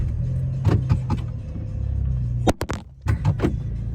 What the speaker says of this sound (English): Now my car is running, so it might be super loud.